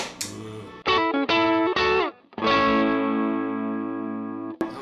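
Electric guitar through a Tube Screamer-style overdrive pedal plays a few sustained chords with gritty, slightly chorused tone, each ringing out loudly before a final short strum.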